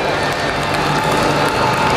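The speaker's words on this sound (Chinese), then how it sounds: "让我们掌声有请二位。" Steady audience applause and crowd noise fill a music-instrument expo stage in Shanghai as two drummers are welcomed, a dense continuous clapping wash throughout.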